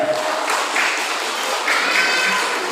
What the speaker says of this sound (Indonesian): Berikan aplaus kepada teman-teman kita.